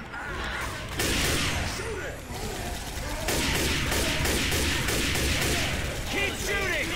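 Continuous gunfire in Left 4 Dead 2 during The Passing campaign, with rapid repeated shots and mechanical weapon clatter, loud and steady throughout, mixed with voices talking.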